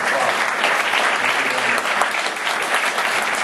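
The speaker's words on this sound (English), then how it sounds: "Stand up and give them a round of applause" An indoor audience at a special education summit applauds the panelists, with dense, steady clapping throughout that is close and loud, with no pauses.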